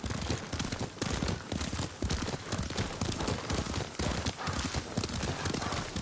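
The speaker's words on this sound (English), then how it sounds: "Lord Sakai taught me to ride a horse." Horse hooves clip-clop steadily in Ghost of Tsushima Director's Cut on PlayStation 5, a loud, close, rhythmic gallop filling the whole stretch with dense repeated beats and little talk.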